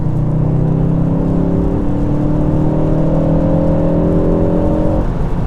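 A tuned Mk4 Ford Focus ST pulls hard in fourth gear, heard from inside the car as a loud, smooth engine note rising steadily in pitch, then easing off near the end.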